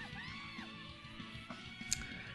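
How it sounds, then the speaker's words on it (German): Video game characters in Tales of Berseria yell and shout amid battle noise, short vocal cries rising over a busy bed of effects and music, with one sharp burst near the end. "dieses Geschrei kann ich nicht mehr hören"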